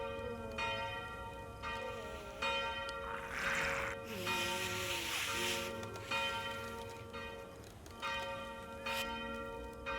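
Church bell tolling inside a zombie survival video game, repeated strikes with long ringing decay layered over game ambience and background music.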